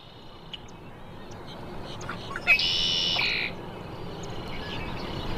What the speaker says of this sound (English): Red-winged blackbird, Sweetwater Wetlands Park, Gainesville, Florida.